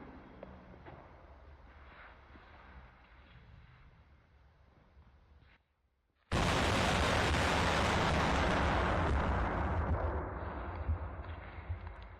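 A glass bottle bursts from trapped gas pressure after a stretch of low, rumbling background noise; a brief silence is followed by a sudden loud blast whose roaring noise carries on for several seconds.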